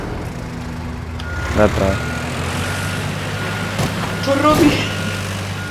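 Vehicle alarm beeping in the Teardown video game: a few short repeated electronic beeps sound over a steady engine rumble, while people talk in the clip.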